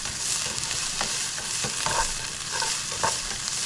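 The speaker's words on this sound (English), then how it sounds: "So let me saute these" Vegetables sauteing in a pan for sloppy joe-style Philly cheesesteak, a steady crackling sizzle close by with scattered spatula scrapes and taps, no voices.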